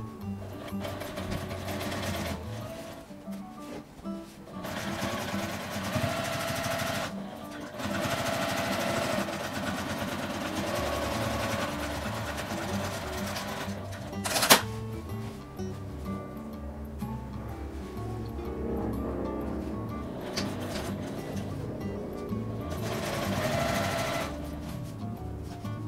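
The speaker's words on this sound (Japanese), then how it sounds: "表同士を合わせて両端を1センチの縫い代で縫います。" A domestic sewing machine stitches the side seams of a sturdy canvas tote bag with a 1 cm seam allowance, a steady mechanical whirring run in several bursts with short pauses between them and no talk.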